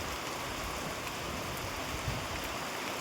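Floodwater from unseasonal rain rushes across the Jesar–Gariyadhar road near Ranigam, a steady, dense broadband wash with no breaks, close and fairly loud throughout.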